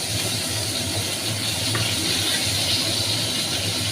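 Pieces of katla fish sizzle in hot oil, a steady broadband frying hiss with a low bubbling hum, close and continuous throughout.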